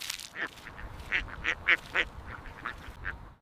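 Ducks quacking nearby, a rapid series of sharp, nasal quacks in quick succession, fairly loud and clear with little else around.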